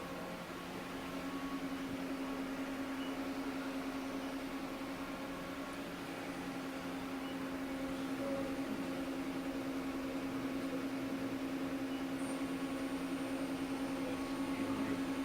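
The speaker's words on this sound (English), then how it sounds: "Now we'll do the sub spindle." A 2003 Mori Seiki SL-2500SMC CNC lathe runs its sub spindle, giving a steady mechanical hum with a constant tonal whine that rises slightly in level partway through, with no voices.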